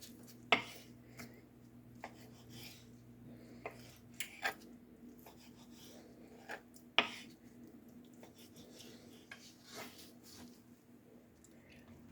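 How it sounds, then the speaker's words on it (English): Food is cut into bite-sized pieces on a board. Quiet knife chops and taps come at irregular intervals over a low background hum, with a couple of louder knocks. "now we're just going to cut this into bite-sized pieces"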